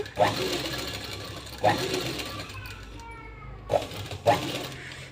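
A sewing machine stitches cut work on a long frock in short bursts, four separate runs of rapid mechanical whirring with pauses between, close and clear, while someone talks over and between them.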